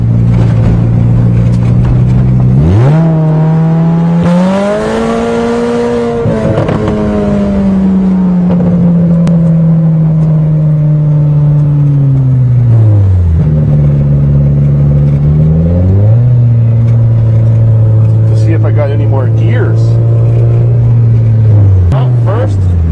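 Toyota GTS with a cold motor accelerating hard through the gears, engine pitch climbing and dropping at each shift in repeated loud sweeps, close by, with occasional speech.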